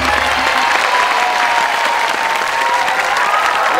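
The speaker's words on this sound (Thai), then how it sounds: "ขอเสียงปรบมือด้วยนะครับ" A studio audience at the True Innovation Awards applauds, a steady, loud wash of clapping with light crowd noise that holds evenly throughout, while a faint voice carries underneath.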